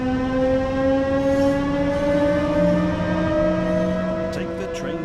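Steady rumble of a train running on the Semmeringbahn mountain railway in Austria, recreated in the game Train Sim World 4, with sustained tonal drones and a brief higher squeal near the end, continuous and close.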